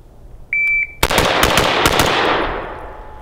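A short electronic shot-timer beep sounds, then a military M4 rifle fires a rapid burst of loud, close shots that echo and fade.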